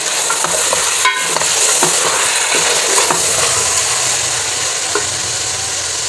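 Achar gosht masala frying in a pan and being stirred, with a loud, continuous sizzle and occasional soft clinks of the spoon against the pan.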